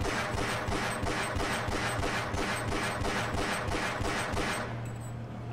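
Rapid automatic gunfire from Half-Life: Blue Shift, a sustained burst of evenly spaced shots that runs several seconds before stopping, loud and close with no talk over it.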